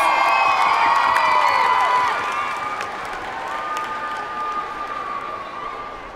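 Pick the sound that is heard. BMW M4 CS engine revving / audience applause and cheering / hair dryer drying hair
audience applause and cheering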